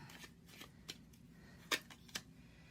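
Tarot cards riffle and snap in a few short, crisp bursts, the loudest near the end, close and alone in a quiet room.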